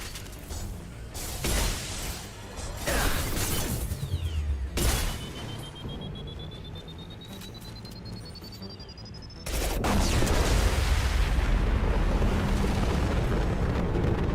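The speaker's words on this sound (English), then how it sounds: "That's a big explosion." A big explosion in the sci-fi shooter Mass Effect 2: sharp gunfire bursts and cracks give way to a sudden loud, roaring blast that rumbles on steadily to the end.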